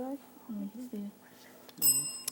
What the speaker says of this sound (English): And that was the bell.